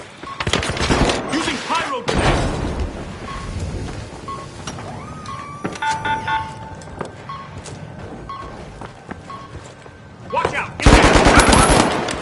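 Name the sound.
turret firing in The Finals video game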